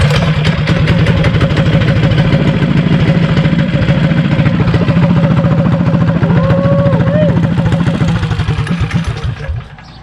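A small drift kart engine runs close by with a loud, steady, rattling idle, its pitch wavering slightly, then the sound fades toward the end.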